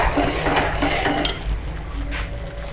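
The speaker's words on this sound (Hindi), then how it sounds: "अच्छे तरीके से इसको हल करेंगे, इसकी बुनाई करेंगे" Chicken masala with cumin powder being stirred and sautéed in a pan, a loud close sizzle under brisk scraping and clinking stir strokes, continuous throughout.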